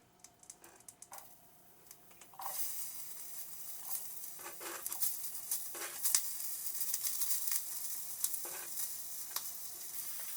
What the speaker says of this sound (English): We're going to add our vegetables.